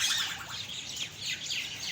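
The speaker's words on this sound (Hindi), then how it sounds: "बहुत ही प्यारे से परिंदे के पास मैं पहुंच चुका हूं। आवाज़ें आ रही हैं ना?" A parrot calling in a zoo enclosure, with repeated high chirps and squawks in a steady run, fairly close and clear, with no talk over them.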